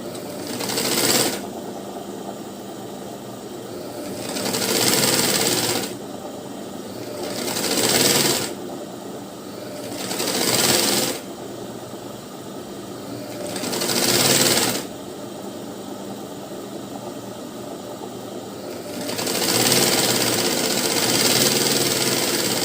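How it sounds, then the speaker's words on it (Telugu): A sewing machine stitches a lined blouse in loud, close bursts of rapid mechanical whirring, several runs of a few seconds each separated by brief pauses. "ఒకసారి పైనుండి రెండో కుట్టు వేసుకోవాలి"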